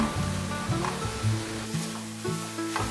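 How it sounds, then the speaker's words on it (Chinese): Pumpkin puree and carrot puree stir-fry in a pan to cook off their moisture, giving a steady close sizzle broken by repeated scraping strokes of a spatula, with no talking. "把南瓜泥和红萝卜泥炒香，把水分炒干一些"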